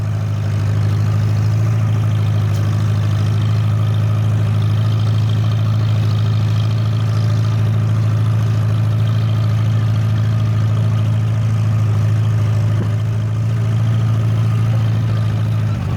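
Farmall BN tractor from the 1940s running steadily as it drives, a loud, continuous low engine drone with a throbbing idle-like hum throughout and no talking.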